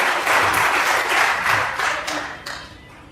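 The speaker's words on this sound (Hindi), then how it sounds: "जोरदार तालियां इन बच्चों की" Children's dance performance at the virtual inauguration of Gandhi Deaf College in Jodhpur met with loud, sustained applause from the audience, many hands clapping together before it trails off toward the end.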